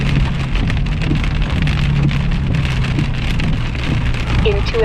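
Heavy rain pounds on a car while driving, a dense, steady hiss and patter on the roof and windshield with a low engine and road rumble underneath.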